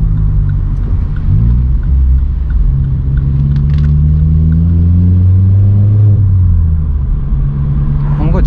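Vauxhall Corsa engine droning steadily from inside the cabin on a night town drive, rising and falling through revs with a downshift near the end; a voice talks over the engine, and the small exhaust pop is not clearly distinct.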